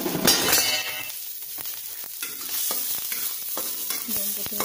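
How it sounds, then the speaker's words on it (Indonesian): Shallots and garlic hit hot oil over high heat, bursting into a loud sizzle at first, then settling into frying crackle with rapid spatula scrapes and taps against the pan, close by, no voices. "Kita tumis bumbu-bumbunya. Bawang merah, bawang putih masuk."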